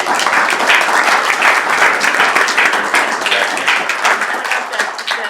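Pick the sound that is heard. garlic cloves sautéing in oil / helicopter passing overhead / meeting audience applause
meeting audience applause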